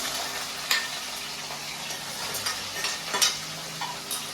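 A steady crackling sizzle of boiled chicken frying in oil for pickle, continuous and close, with a few sharper pops and clinks scattered through.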